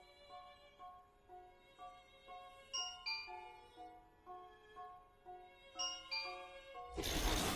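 A bright chiming melody rings out in a repeating ding-dong pattern, clear and moderately loud, then a burst of broadband noise cuts in at the end.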